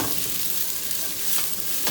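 Frying onions in a soup pot crackle and hiss while a utensil stirs them, close and steady, with faint scraping swells and no voices.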